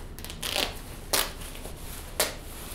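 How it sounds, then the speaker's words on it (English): A ski jacket is opened, a soft rustle of fabric followed by two sharp, short rips that could be a zipper or Velcro, close and clear with no talking. "I'm gonna open up the jacket right now."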